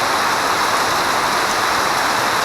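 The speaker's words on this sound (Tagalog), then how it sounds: "Sobrang lakas ng ulan." Heavy rain pouring down in Pugo during a bike ride from Pangasinan toward Benguet, a dense, steady roar of downpour filling the whole clip at constant loudness with no voices.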